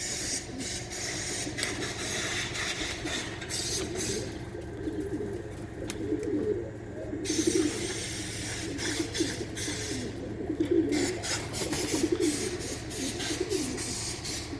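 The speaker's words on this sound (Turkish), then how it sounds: "Arkadaşlar Mustafa şu küçük hedefe kuşları indirebiliyor yani." Gök Takla tumbler pigeons in training, with soft cooing and the whirring flutter of wings amid steady rustling and hiss, the bird sounds rising and falling in bursts throughout.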